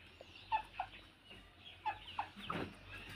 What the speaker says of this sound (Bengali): এই যে মুরগিগুলো খেলা করে বেড়াচ্ছে